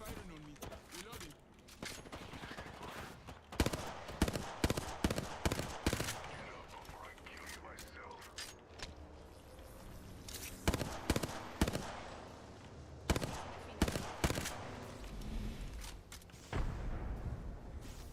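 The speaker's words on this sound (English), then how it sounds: "They're firing on me." Gunfire from enemies in a video game comes in repeated bursts of close, loud shots with short gaps between volleys, over a steady background rumble.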